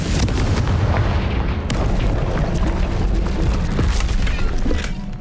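Confringo blasting spell going off in Hogwarts Legacy, a sustained, loud booming explosion with rumbling debris and crackling bursts throughout.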